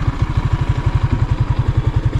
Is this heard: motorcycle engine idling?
yes